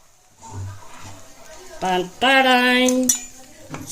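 Idli pieces dropped into a pan and stirred, with a few metal utensil clinks and scrapes against the cookware, partly under someone speaking.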